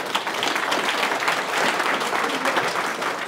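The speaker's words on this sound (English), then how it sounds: "big round of applause for Dave" Conference audience at a ham radio convention applauds a speaker after a firmware tools talk, a full, even wash of many hands clapping that holds steady throughout.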